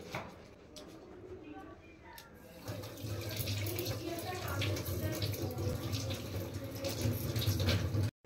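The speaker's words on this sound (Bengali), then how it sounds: "এবার মাছটা আমি কেটে ধুয়ে নিই" Tap water runs steadily into a sink while a fish is washed at home, a continuous close splashing stream that starts after a few seconds of quieter room sound, with faint voices early on.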